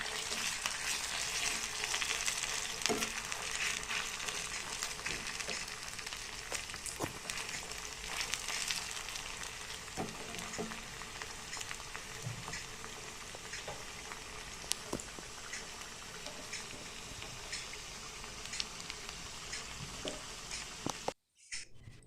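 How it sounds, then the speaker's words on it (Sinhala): Moisture-drained pieces frying a little at a time in oil in a wok for a festive snack: a long, steady crackling sizzle with scattered pops and ticks, close and fairly loud, ending in a sudden cut. "තාච්චියට දාගෙන තාච්චියේ ටික ටික දානවා. තෙතමනේ බේරලා ටික ටික දාලා මේක බැද ගන්නවා"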